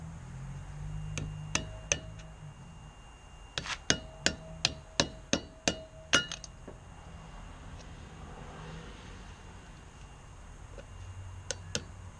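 A trailer hub grease seal is driven in with a socket and hammer: a few scattered metallic taps, then a quick run of about eight sharp, ringing strikes, before a quieter stretch.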